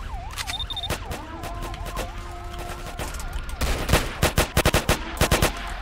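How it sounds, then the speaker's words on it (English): Rapid gunfire erupts during a Roblox city war in Vancouver, bursts of sharp shots growing denser and louder toward the end while wailing police sirens sweep up and down behind them. "Multiple shots fired."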